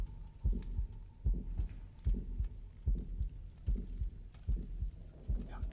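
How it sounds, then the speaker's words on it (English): A steady heartbeat sound effect from the video game Syndrome pulses in repeated lub-dub double thumps about once every 0.8 seconds, loud and low, with faint game ambience underneath and no talking. "I'm hearing my heartbeat and I'm freaking out."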